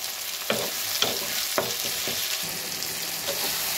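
Chopped tomatoes, salted to soften, sizzle steadily in a hot pan for an Odisha-style katla fish dish, with a spoon scraping and stirring several times through the constant frying hiss.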